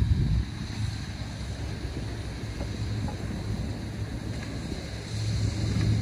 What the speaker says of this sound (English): Now you see how that wind is trying to blow those off?